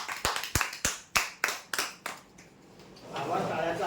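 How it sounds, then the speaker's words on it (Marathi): A short round of applause at a prize draw for an electric tandoor winner, about eight sharp claps in the first two seconds, then a softer crowd murmur swelling. "इलेक्ट्रिक तंदूरसाठी जोरदार टाळ्या"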